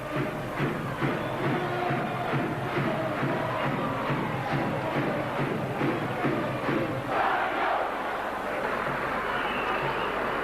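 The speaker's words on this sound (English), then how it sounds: "Adamson getting a rich round of applause from the paddock, which he salutes." Rugby league crowd at a Leeds versus Wakefield match in 2002 applauding and cheering a try, a dense roar of clapping and shouts from the stands with a commentator talking over it.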